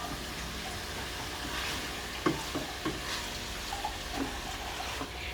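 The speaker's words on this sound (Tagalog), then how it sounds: "Ako kasi sinasangkutsa ko muna para mawala ang lansa." Milkfish (bangus) searing in a hot pan for sinigang gives a steady, close sizzle with a few scattered clinks and scrapes.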